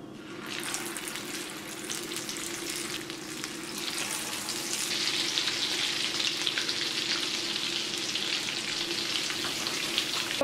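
Cheesy potato croquettes fry in a pan of cooking oil and leftover bacon fat, giving a steady close crackling sizzle that grows denser and brighter partway through, with no talking.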